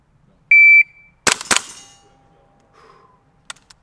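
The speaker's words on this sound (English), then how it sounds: "Now I'm gonna switch to the gas blowback rifle and show you that it's the same." Gas blowback airsoft rifle fires two sharp close cracks in quick succession, preceded by a brief high electronic beep and followed by a faint metallic ring and a later light tap.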